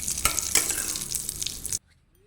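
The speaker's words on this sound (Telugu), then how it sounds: "ఆ జీడిపప్పు బాగా ఫ్రై చేసుకోవాలి, గోల్డ్ కలర్ వచ్చే వరకు బాగా ఫ్రై చేసుకోవాలి." Cashews fry in ghee in a pan with a close, bright sizzle and stirring scrapes for under two seconds before it cuts to silence.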